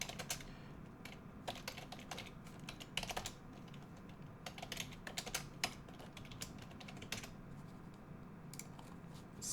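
Computer keyboard typed on while writing code, a near, moderately quiet stream of key clicks in irregular bursts with short pauses, over a faint steady room hum.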